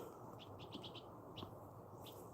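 Small bird chirps arrive in a quick burst of high, thin tweets in a backyard garden, followed by a couple of isolated calls. They sound faint and distant over a low background rumble.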